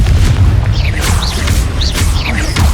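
Fire-blast spell explosions in Hogwarts Legacy, heavy booming thuds that repeat in quick succession over a rumbling low-end bed with whooshing magical effects.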